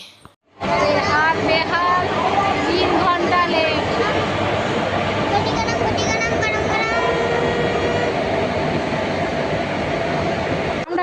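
Trains rumble and clatter through a busy railway station, loud and continuous, with squealing wheels and a babble of people chattering underneath.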